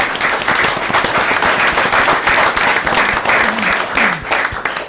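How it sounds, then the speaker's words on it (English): Audience applauding at a county board of commissioners meeting, a dense, steady round of clapping filling the room at close range for about five seconds. "we'd like to thank them and give them a round of applause for that"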